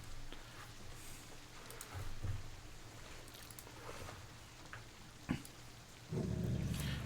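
Rain sound effect during a tabletop Dungeons & Dragons session, a faint, steady patter of drops at low level with a few scattered ticks and a louder rumbling burst near the end.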